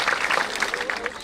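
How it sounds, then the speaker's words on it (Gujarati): A crowd at a women's gathering claps loudly and continuously, a dense rattle of many hands filling the moment. "એમને જોરદાર તાળીઓના ગડગડાટથી બતાવો પહેલા."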